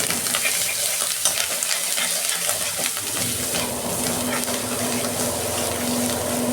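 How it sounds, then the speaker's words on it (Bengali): Onion paste hitting hot oil with whole spices (cinnamon, cardamom, cloves, cumin) in a pan for a soybean curry, a steady loud sizzle and fry with stirring scrapes, no talk. "এই যে পেঁয়াজ বাটাটা দিয়ে দিচ্ছি তেলে।"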